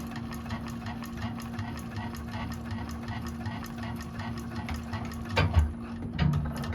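A 1341 cylinder arm sewing machine top stitches a crossbody bag with a fast, even, ticking stitch rhythm over a low motor hum, close by, with a couple of heavier thumps near the end.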